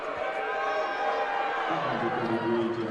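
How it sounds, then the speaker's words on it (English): Home crowd at a West Texas A&M versus Oklahoma Christian basketball game murmurs and calls out in disagreement, a steady dense crowd roar with an announcer talking over it. "the audio would say that the home crowd disagrees"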